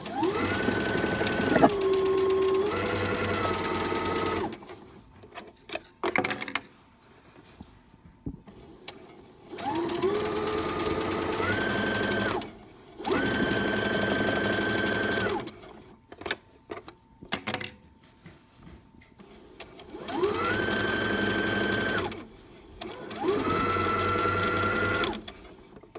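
A sewing machine stitches the hem of a rag rug in several loud motorized bursts, each running a few seconds, separated by quiet pauses.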